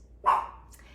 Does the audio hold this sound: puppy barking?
yes